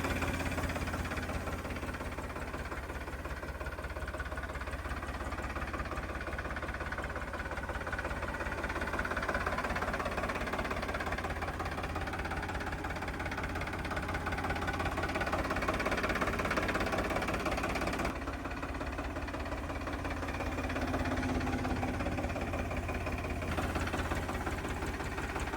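Engine of a used Mahindra Yuvo Tech Plus 415 4WD 2023 tractor running at a steady idle, a continuous low rumble with faint knocking vibration, unbroken and moderately loud throughout, no speech.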